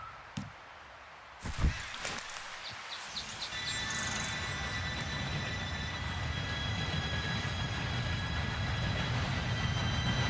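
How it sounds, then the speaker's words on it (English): A train pulling in within Red Dead Redemption 2, opening with a few sharp clanks before a steady, rising rumble of rolling wheels and rail noise builds and holds throughout, with faint high squeals on top. "Train should be here any minute now."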